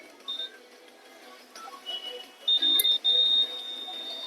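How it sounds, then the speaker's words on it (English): A multimeter's high electronic beep sounds in two sustained bursts close together when testing a dead MOSFET in a laptop, amid faint clicks and quiet background noise. "It's beeping."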